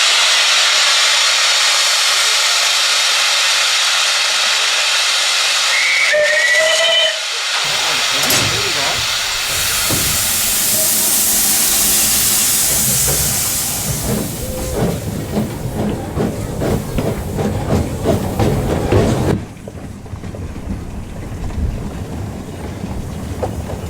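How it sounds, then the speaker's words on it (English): Loud hissing steam blasts alongside short whistle toots, followed by chuffing and rumbling of a steam train in Australia, heavy and close. "So yeah, steam trains"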